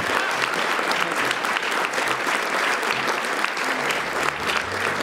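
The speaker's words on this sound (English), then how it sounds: "everybody give a round of applause for Romska" Sustained applause from a large crowd at a speedrunning marathon event, steady and dense clapping filling the whole stretch without a break.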